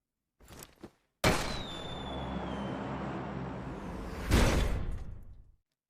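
Automatic gunfire from a PUBG Mobile match: a couple of quick shots, then a sustained loud burst lasting several seconds with a sharper swell near the end before cutting off.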